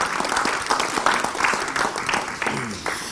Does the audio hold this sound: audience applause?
yes